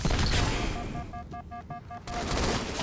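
Rapid gunfire in a Halo 2: Anniversary Team Doubles multiplayer match: dense, continuous bursts of shots over a busy battle din, with a series of short electronic beeps cutting through midway.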